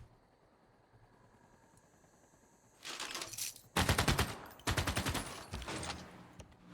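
In Civilization VI, the city of Halicarnassus launches a ranged attack, heard as loud bursts of rapid gunfire that start after a quiet few seconds and continue in clustered volleys.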